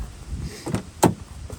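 A 1995 Lincoln Town Car door swung shut, a muffled closing thud followed by a sharper latch clunk at close range over light background noise.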